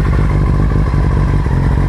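Steady, loud mid-pitched engine drone of a 600cc motorcycle pulling away as the clutch is eased out, close and continuous with a slight clattering texture.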